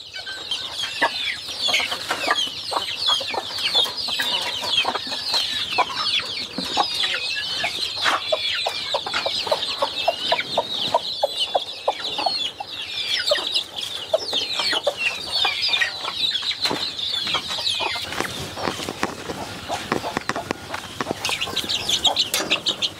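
Hens and two-week-old chicks cluck and peep continuously while pecking at melon, with many short, overlapping calls and light tapping from feeding, close and fairly loud.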